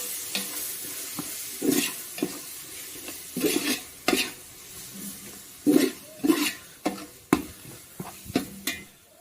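Ginger-garlic paste fries in a pot for mutton biryani and a spoon stirs it, making rhythmic scraping strokes over a continuous close sizzle.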